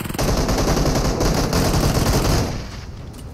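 Rapid, loud bursts of automatic gunfire rattle almost without pause in a video game firefight, then fade off near the end.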